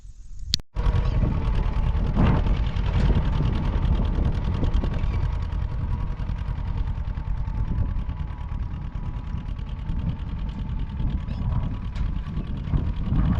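A tractor engine rumbles continuously at close range in a field, a low, even drone with some wind noise and no pauses.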